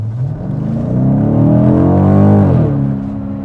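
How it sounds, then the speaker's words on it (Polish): A gasoline BMW engine revs as the throttle is pressed, its pitch climbing steadily to a peak, then dropping back down; loud and close. "można naciskać gaz."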